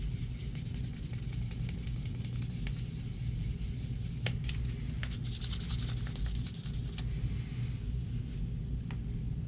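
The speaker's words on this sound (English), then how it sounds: "this one has to be sanded well because we're going to be applying a stencil to it" Steady rubbing of sandpaper on the plastic shell of a Logitech G Pro Wireless mouse, a continuous close scratchy hiss with a few sharper strokes, no talk.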